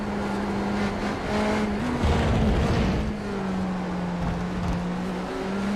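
A GT3 race car engine in a sim racing game drones steadily, its pitch rising and dipping with throttle changes, the sustained tone continuing throughout without a break.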